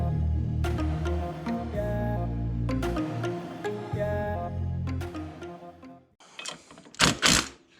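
Tightening bolts on a Kolpin accessory mount for a Honda Fourtrax ATV: several rapid ratcheting clicks in bursts over a low hum, followed by a few louder metallic clanks close by.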